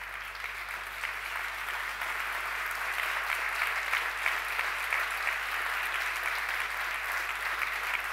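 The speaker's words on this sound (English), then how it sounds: "Is not by chance that the round of applause is so long." A long, steady round of applause from a large audience at the 42nd Masi Prize award ceremony, dense clapping filling the hall at an even, sustained level throughout.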